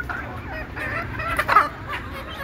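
Desi chickens on a poultry farm cluck and murmur in a steady low chatter, with one brief louder squawk near the middle and no speech.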